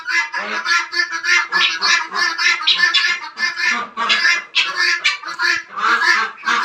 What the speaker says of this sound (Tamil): இன்னி கோழி இங்கே இருக்குங்க.